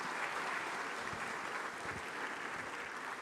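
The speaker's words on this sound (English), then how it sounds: "A round of applause for the President of our Republic." Audience applause for the President of the Republic at an Afreximbank annual meeting, a steady, even wash of many hands clapping in a large hall that keeps going throughout.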